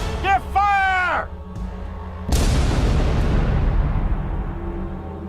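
A musket volley goes off as a single loud, booming blast with a long rolling decay, right after shouted commands.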